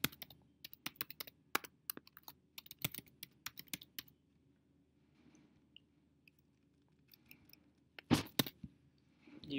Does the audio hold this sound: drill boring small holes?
no